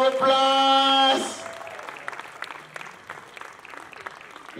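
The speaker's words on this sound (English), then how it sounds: "A round of applause." Applause from an audience breaks out after a sustained musical tone cuts off, a burst of clapping that thins into scattered claps over a few seconds.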